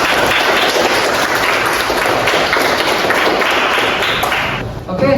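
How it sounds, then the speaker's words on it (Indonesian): Classroom applause for a student in a history lesson, dense steady clapping from many pupils lasting several seconds, loud and close, fading out at the end. "tepuk tangan dulu"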